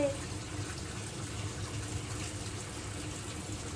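Water gushes and drains steadily from a sink during hand-washing of soapy laundry at home, a continuous close splashing flow with no pauses.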